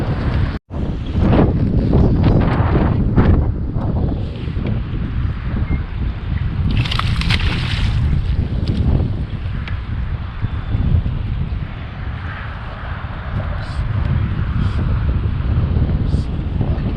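Wind buffets the microphone beside a road during spring bass fishing in North Oakland County, a loud continuous rumbling roar with gusty surges across the whole stretch, with no talking.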